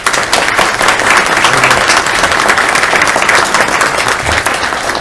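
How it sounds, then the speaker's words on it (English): Sustained applause from an audience honoring school board members at a regular board meeting, steady dense clapping at moderate level filling the whole stretch without pause. "Please give them a round of applause."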